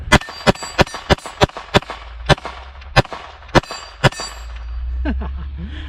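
A Sig Sauer P322 .22lr pistol fires about ten quick, sharp shots in an uneven rhythm, several with a ringing metallic clang off a small steel plate, then a low rumbling lull at the end.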